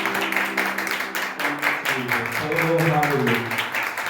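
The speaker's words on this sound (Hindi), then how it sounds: "ताली बजा के हम प्रभु के नाम की आराधना करते हैं।" A church congregation claps along in worship at a Palm Sunday service, steady rhythmic hand claps under a voice speaking and singing over the crowd.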